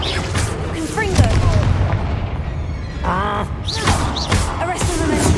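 A Confringo blasting curse bursts in Hogwarts Legacy, loud booming blasts layered with swooping magical effects and a busy combat backdrop, a voice intermittently heard.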